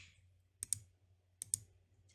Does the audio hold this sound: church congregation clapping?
no